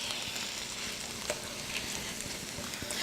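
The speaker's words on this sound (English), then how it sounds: "I can hear my marinara sauce doing magic over there" Marinara sauce simmering alongside sausage frying in a pan, a steady, dense sizzle and crackle with small pops throughout, fairly close and continuous with no talking.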